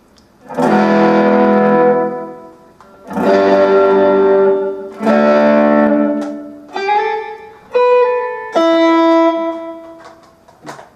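Guitar chords and single notes played through an XVIVE Maxverb pedal with the blend turned all the way up, every strum swelling into a thick, lingering wash that smears the notes together.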